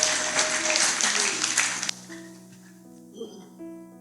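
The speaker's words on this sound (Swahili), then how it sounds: "tukipiga makofi mengi sana" A church congregation claps hands in a dense, lively burst for about two seconds, then it fades as sustained keyboard-like tones and a voice take over.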